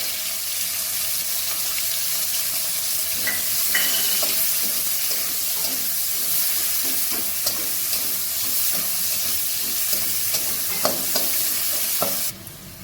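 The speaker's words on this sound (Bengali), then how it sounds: "একটু মশলাটা ভাজা ভাজা হোক একটা বড় সাইজে পেঁয়াজ কুচি কিছু দিলাম" Spices and chopped onion fry in a pan for a shrimp, kohlrabi and potato curry, giving a steady, close sizzle with scattered stirring scrapes and clinks throughout, and no voices.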